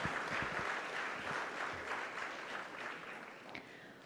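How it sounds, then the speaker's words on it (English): Audience applause at an ICSI conference meet, a sustained wash of many hands clapping throughout a large hall, steady and fairly faint, tapering slightly toward the end. "Can we have a huge round of applause for CS Pawan G."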